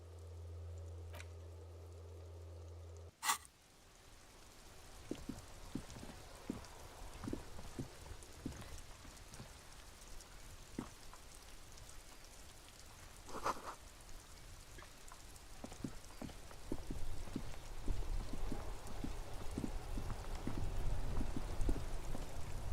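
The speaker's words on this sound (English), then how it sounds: "It's raining again." Rain from the detective game Disco Elysium, a steady soft patter of drops on hard surfaces that slowly thickens into a fuller downpour, with a few sharper taps scattered through it.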